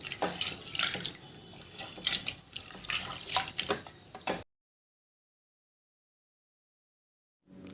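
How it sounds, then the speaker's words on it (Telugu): Toor dal being rinsed with water inside a pressure cooker for hotel-style dal fry, giving a close, sloshing splash with bursts of swirling water for about four seconds, then silence. "ఇప్పుడు ఒక కుక్కర్ తీసుకొని అందులో కందిపప్పును 1 గ్లాస్ వాటర్ పోసి మంచిగా శుభ్రంగా కడుక్కోవాలి."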